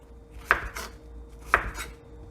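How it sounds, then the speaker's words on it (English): Zucchini cut into small cubes on a board: two crisp knife chops about a second apart, close and clear with no other sound. "I'm just gonna chop up some squash, or zucchini is what it is. And I'm just cutting it into small cubes."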